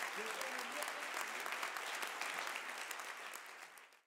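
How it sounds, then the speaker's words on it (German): Sustained applause fills the hall at a festive ceremony marking an anniversary celebration, dense steady clapping from a large audience that holds loud throughout and then cuts off abruptly near the end. "ein großer Applaus für eine ganz große Leistung"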